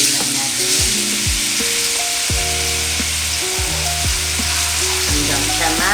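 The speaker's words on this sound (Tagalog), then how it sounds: "sisimulan natin sa pagprito ng ang tawag dito, tofu. So, ipa-fry lang natin" Tofu fries in a pan of hot oil with a loud, continuous close sizzle that crackles and pops throughout, with no one speaking over it.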